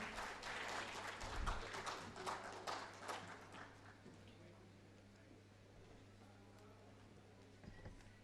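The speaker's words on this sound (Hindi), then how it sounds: "जोरदार तालियां प्लीज, जोरदार" An audience at a televised literary stage event gives brisk applause to welcome speakers, loud at first and fading away after a few seconds into a quiet hum of the room.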